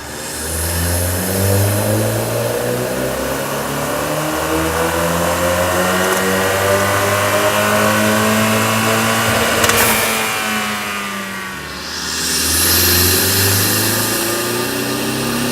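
A 2015 Ford Mustang with the 2.3L EcoBoost four-cylinder and a Spectre air intake revs up and down in long sweeping rises and falls, loud and close, with no one talking.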